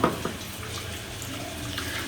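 Tap water running steadily into a sink while chicken is washed in a home kitchen, a close continuous splashing stream with small irregular spatters and no talk.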